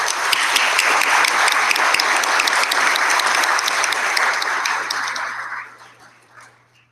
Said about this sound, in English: If we can give a round of applause for the Theist panel.